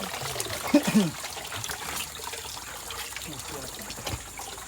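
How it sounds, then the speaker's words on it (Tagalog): A small mountain stream trickles and burbles steadily nearby, with voices speaking over the flowing water. "Dito po ang water."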